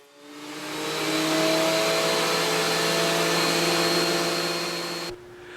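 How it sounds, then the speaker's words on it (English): A benchtop 13-inch straight blade planer runs for about five seconds, a loud steady whine with a high motor tone that spins down at the end, close in a workshop. "I'm just using a simple benchtop 13-inch capacity straight"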